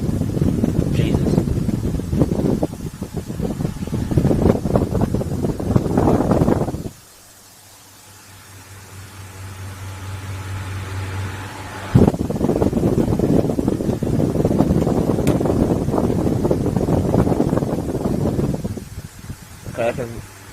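A Heller 50W box fan blows a steady, low whooshing hum, mostly beneath someone talking close by, and runs alone for a few seconds in the middle.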